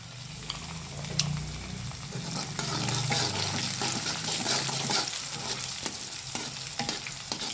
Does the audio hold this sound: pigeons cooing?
no